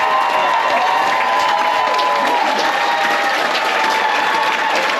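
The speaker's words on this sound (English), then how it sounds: "Let's hear for our executive chef, Mr. Akner, and his wonderful team." A large dining-room audience on a Carnival Glory cruise ship applauds and cheers steadily for the executive chef and his team, dense loud clapping with scattered shouts filling the whole stretch.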